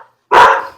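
A single loud, close dog bark bursts out after a brief quiet and trails off, with no voices over it.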